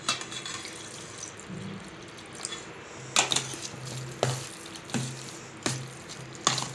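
Water is poured little by little into cooked rice being mashed for curd rice, with soft trickling and several squishy, wet mashing sounds at close range.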